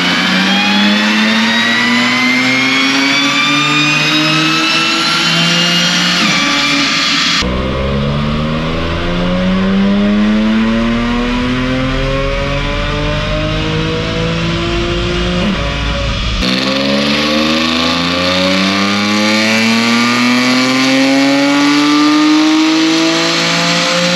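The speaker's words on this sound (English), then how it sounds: "time to do a few more rips on the dyno" Audi B8 S4 with an Integrated Engineering throttle body upgrade revving hard on a dyno, three loud sweeping pulls with rising engine pitch, brief lift between them, no talking.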